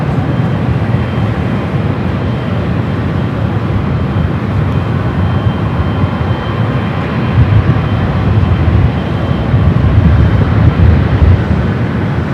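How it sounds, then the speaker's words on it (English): Emirates Airbus A380 airliner at Los Angeles International Airport, its engines producing a steady, loud, broadband roar with deep low rumble that holds evenly throughout, swelling slightly near the end. "the Emirates A380 Super"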